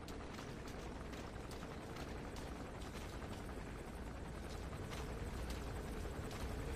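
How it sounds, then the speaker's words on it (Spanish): A helicopter comes down in Metal Gear Solid 5, its dense, steady rotor chop rumbling continuously and fairly faintly with no talking. "Bueno, el helicóptero ya baja."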